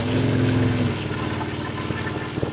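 Harley-Davidson Street 750 fitted with a Screamin' Eagle exhaust, a close, loud engine idling with a deep throb, a brief rev at the start then settling into a lumpy low rumble.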